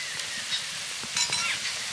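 Sliced onions with salt, turmeric and chili powder fry in a pan, giving a continuous close sizzle with occasional light stirring scrapes and no talking.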